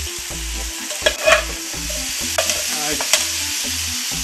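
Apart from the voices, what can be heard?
tomato added to fried meat, onion and pepper for paella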